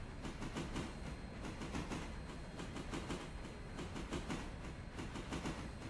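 A train rolls along in the video game Railroader, steady rumbling with a regular clickety-clack of wheels over rail joints, continuous and fairly close throughout.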